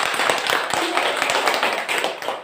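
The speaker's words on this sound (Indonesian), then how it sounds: "Tepuk tangan dulu untuk Melania" Schoolchildren in a classroom clap for a classmate, a short, dense run of quick hand claps at close range, fairly loud and steady throughout.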